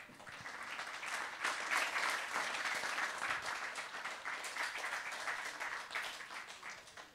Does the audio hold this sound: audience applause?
yes